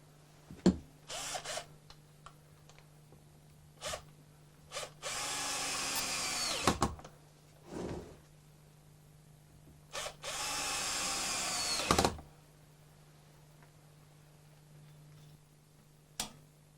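Power drill boring 3mm pilot holes for screws into wood, in several bursts: a few short blips, then two long steady whirring runs, with brief quiet gaps and a low steady hum underneath.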